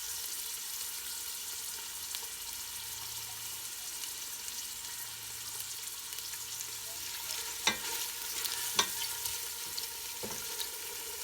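Shallots sauté in a big pot for pineapple chicken with coconut milk, a soft even sizzle running throughout with a few sharp utensil taps near the end, no speech.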